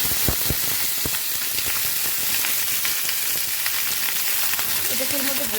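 Ingredients for khichuri fry in a hot pan with a dense, continuous sizzle, close and fairly loud, with scattered pops and crackles from start to end.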